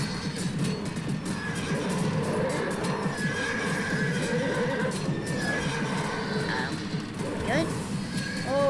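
Horses neighing and whinnying amid hoof clatter and crashing collisions in the video game Animal Revolt Battle Simulator, a busy continuous din with several sharp whinnies near the end.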